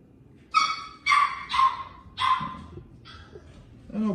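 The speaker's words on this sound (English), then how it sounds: "now the other ones want to start that barking crap" French bulldog puppies barking indoors, several sharp yappy barks in a loose burst with brief pauses, fairly close and clear, ending with a lower whimper.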